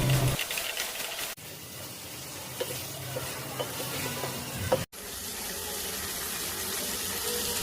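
Water is poured into a hot pan of sautéed turnips, giving a quiet, steady sizzle and bubbling with faint stirring scrapes. Two abrupt breaks interrupt the otherwise continuous sound.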